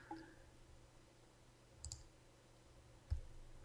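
Two faint, quick computer mouse clicks land about a second apart against a quiet room hum, with no talking.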